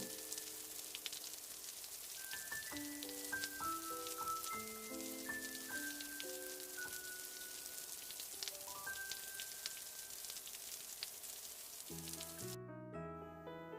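Rain falls in a steady, soft hiss with faint pattering drops, playing continuously beneath a simple melodic tune.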